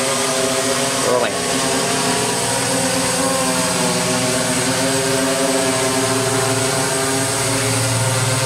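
The motors of a DJI S800 hexacopter drone whir in a loud, steady, even drone while it descends to land, with a voice speaking over the noise.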